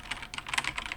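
Quick, light keystrokes rattle on a computer keyboard in a short, close burst of uneven clicks.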